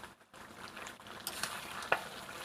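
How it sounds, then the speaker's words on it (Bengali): Chicken curry being stirred in a pan, with soft scraping and faint sizzling at low level, a few louder clinks and a brief sharp knock near the end. "এটাকে ভালো করে নেড়ে নিতে হবে"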